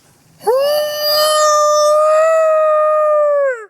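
A human voice imitates a Bigfoot howl through cupped hands, one long, loud, sustained wail that rises sharply, holds a steady pitch for about three seconds, then drops off at the end.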